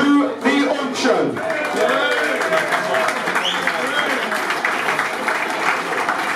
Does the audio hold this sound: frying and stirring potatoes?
no